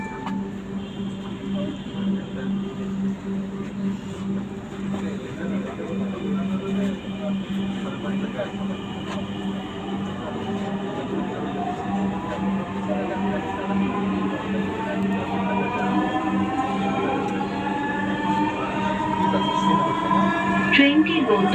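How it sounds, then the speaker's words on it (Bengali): Dhaka metro rail train travelling from Mirpur 10 to Mirpur 11, heard from inside the car: a steady rumbling cabin hum with an electric motor whine that climbs in pitch as the train accelerates, while a voice speaks over it. "This train is bound for Uttara North."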